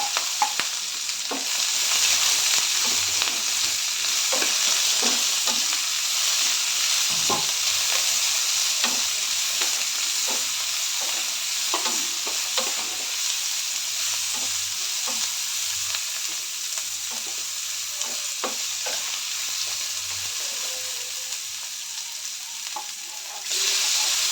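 Chopped onion or green chili frying in a pan for jawali kai (gorikai) palya: a steady, close sizzle with scattered stirring clicks and scrapes throughout, no voices.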